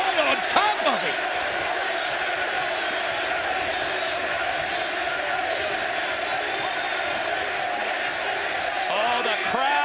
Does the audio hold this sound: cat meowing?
no